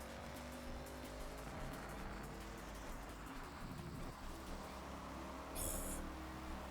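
Subaru BRZ driving in the Forza Horizon 6 racing game, a faint, continuous engine and road drone that shifts slightly in pitch, with a brief bright burst late on.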